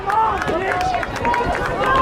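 A basketball arena crowd jeers a player as halftime arrives, a loud sustained roar of voices and shouting mixed with a few claps, close and continuous.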